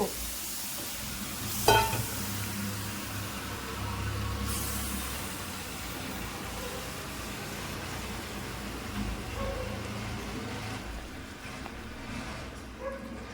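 Wheat halwa stirred steadily in a pan, with a continuous soft scraping and sizzling that stays low and even, broken by a sharp knock early on and a few brief swells.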